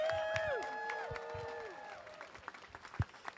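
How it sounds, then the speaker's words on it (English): Crowd at an outdoor rally outside a San Francisco immigration court welcoming a speaker: scattered clapping and cheers with a few whistles sliding downward at the start, then thinning to sparse claps. "Give her a warm of applause."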